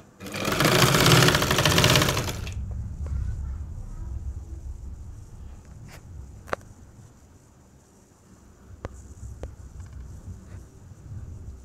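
A sewing machine stitching fine tucks on a churidar runs in a loud, fast whirring burst for about two seconds, then stops, leaving quiet room tone with a few faint clicks.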